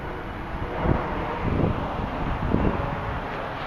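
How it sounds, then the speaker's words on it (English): Wind outdoors in North Hollywood buffets the microphone in a constant rumbling rush, with a few louder low gusts thumping through and no talking. "We've got a little bit of wind that might screw up the audio or something"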